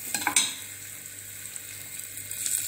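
Turmeric and red chili powder being mixed and fried in a pan, a soft continuous sizzle with a couple of sharper scraping strokes near the start, close and fairly quiet with no talking.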